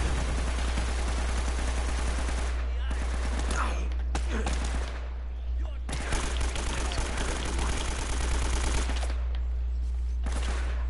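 AK-47 automatic fire in the video game Uncharted, with dense bursts of rapid gunfire sounding in repeated volleys over a constant low hum, loud and close.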